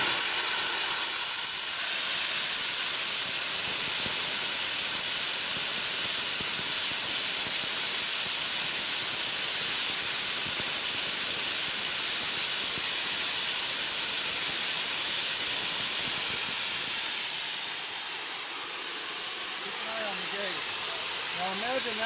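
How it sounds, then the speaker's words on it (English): The boiler of a 1906 Stanley Steamer blows off steam in a loud, continuous hiss that runs for many seconds before easing, with people talking faintly nearby. "Okay, we're going to blow off the steam."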